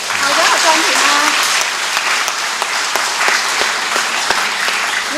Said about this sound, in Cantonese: 可唔可以幫我哋俾啲掌聲？